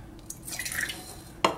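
Water from a pH pitcher filter drips into the pitcher in a few soft, close drops and trickles, with a brighter splash near the end in a quiet room.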